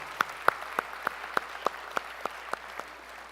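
Slow, spaced claps from a church congregation ring out in a roomy hall, about ten sharp claps in a steady rhythm rather than a full burst of crowd applause.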